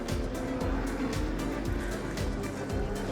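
A 1967 McLaren M6A race car at speed on a racing circuit, a loud, steady engine roar with a sense of motion and rapid rhythmic pulses, close and filling the whole moment.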